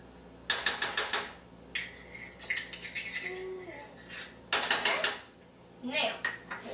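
Margarine goes into a small saucepan on a stovetop, with bursts of clinking metal and pan handling in short clattering clusters, close and fairly loud between quieter pauses.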